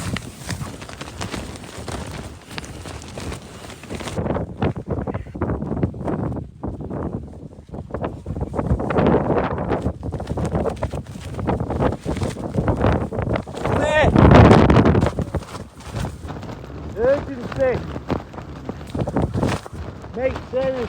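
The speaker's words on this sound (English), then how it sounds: "There's some mad winds." Strong gusts buffet and flap a tent on a windswept moor, with loud rumbling wind noise on the microphone that rises and falls. People talk and shout over it throughout.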